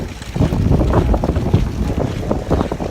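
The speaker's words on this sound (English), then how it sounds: "It's windy and it's nice out." Wind blowing outdoors on a mild December day, a loud, steady buffeting rumble that gusts and thumps across the microphone throughout, with no voices.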